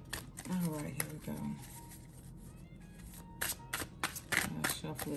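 Tarot cards are shuffled in quick riffling bursts, with people talking over the soft, papery flutter close by.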